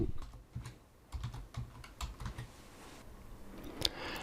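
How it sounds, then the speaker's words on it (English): Keys clatter on a computer keyboard as a search term is entered, an uneven burst of close, crisp taps with short pauses and one sharper click near the end. "So I type in dyslexia in the search box."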